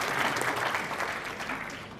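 A seminar audience at RNGPIT in Bardoli breaks into applause, a loud, dense roar of many hands clapping together, steady throughout and slightly easing toward the end.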